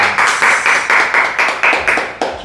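Group applause breaks out for a housewarming gift in a family's new home, a brisk, dense run of clapping close by that swells in repeated waves and carries on steadily with no talk over it.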